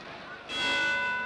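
A boxing ring bell rings once to close a round at a 1959 British and Commonwealth heavyweight title fight. Its bright, sustained tone rises over the crowd and hall ambience and rings on to the end.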